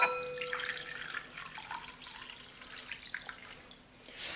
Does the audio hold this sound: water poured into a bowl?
yes